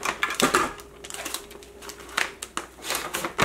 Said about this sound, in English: then we gonna go ahead and tape that